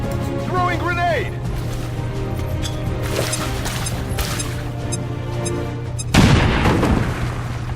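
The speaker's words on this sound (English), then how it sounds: "So I'm gonna start throwing grenades around." A thrown grenade exploding in a video game, a single loud boom and crash near the end after a stretch of steady engine hum and game noise, with a voice talking earlier.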